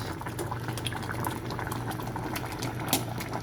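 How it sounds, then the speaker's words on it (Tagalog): Fish stew with coconut milk and vegetables bubbling steadily in a pot, a close, continuous simmer with small pops and gurgles throughout. "Kulong-kulo na siya guys."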